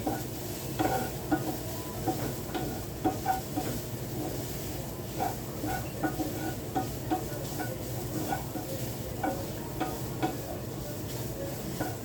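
A spoon scrapes and stirs spinach thoran in a pan, steady repeated clinks and rustles over a soft continuous sizzle, close and moderately quiet with no talking.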